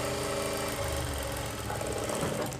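A sewing machine stitches a light seam along the edge of a pant hem strip, a continuous fast mechanical whirr at steady volume that fades out at the end, with no talk.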